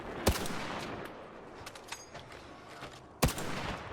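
Two sharp, loud gunshots about three seconds apart from the Pharaoh weapon in the video game Arc Raiders, each a crisp crack over a low background hum.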